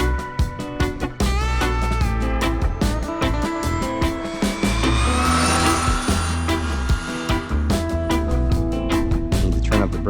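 A Traxxas XRT 8S RC truck drives in loud, choppy bursts, its electric motor whining and rising in pitch amid repeated clattering impacts and tire scrabbling.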